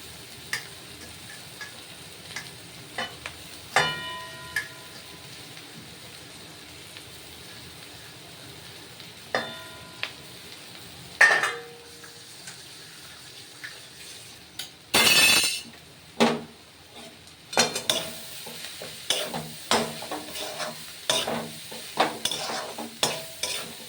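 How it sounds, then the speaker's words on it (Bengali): Chow mein frying and being stirred in a pan, with a soft sizzle under scattered clinks and scrapes of the utensil against the pan, and a louder burst of sizzling partway through. "এবার আমি চাউমিনটা ঢেলে দিচ্ছি।"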